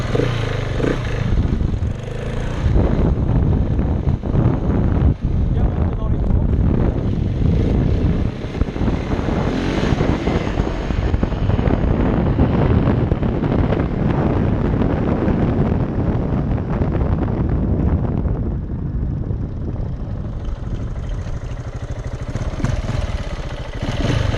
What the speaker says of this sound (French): Donc là on va passer deuxième, troisième.